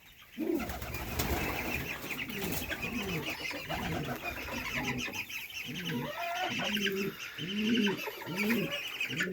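Pigeons coo in repeated low, throaty calls, with other birds and some small hens clucking mixed in, steady and close throughout.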